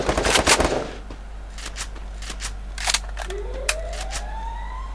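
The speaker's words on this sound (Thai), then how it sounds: "ยิงเล่นไปก่อน" Gunfire from the mobile battle-royale game Free Fire opens with a loud rapid burst. Scattered single shots follow at intervals, along with a faint rising whine.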